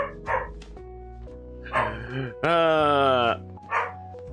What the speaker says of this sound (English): My dog is loud enough that she can bark and the microphone will pick it up.